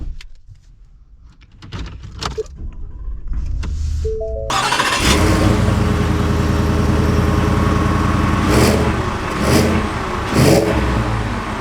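A 2024 Ford F-150 pickup with the 5.0 Coyote V8 cranks and fires up after a quiet stretch, then settles into a loud, steady rumble with a few sharp revs blipping near the end.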